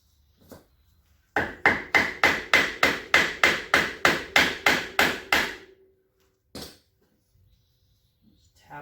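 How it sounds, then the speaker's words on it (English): A hammer taps an axle bearing into place on a Polaris Sportsman ATV rear wheel, about sixteen quick, evenly spaced metallic blows close by, followed by a single stray knock and quiet. "Just tap that till it goes in place."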